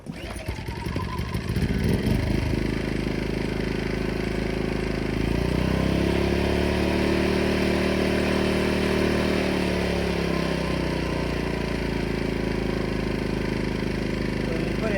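A small portable generator engine sputters to life after a pull start, then settles into a loud, steady running hum with a slight drop in pitch partway as eco mode slows it down.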